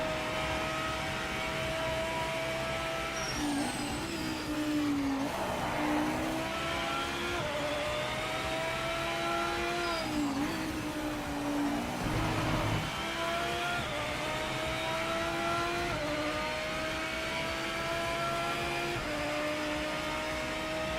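A race car engine in the Project Motor Racing video game drones continuously, repeatedly revving up and dropping pitch through gear changes, steady and fairly loud with no talk over it.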